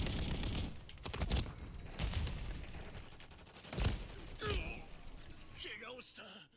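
Gunfire from Call of Duty: Modern Warfare, with several sharp bursts of rapid shots spread across the stretch at a moderate level. A voice talks over parts of it.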